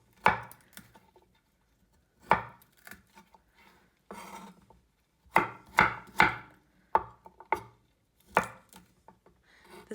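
Knife chopping broccoli into florets on a cutting board, a run of crisp close chops arriving in short bursts with brief pauses between them.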